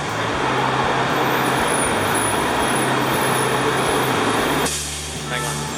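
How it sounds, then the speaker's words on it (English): A bus pulls up on a roadway, its heavy engine rumbling loudly and close for several seconds before a hissing air-brake release near the end, with traffic noise around it. "This might be my bus"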